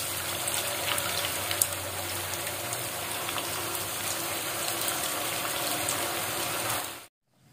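Jadah tetel sticky rice cakes fry in hot oil, giving a continuous crackling sizzle with small pops that runs steadily, no voices, then cuts off abruptly near the end.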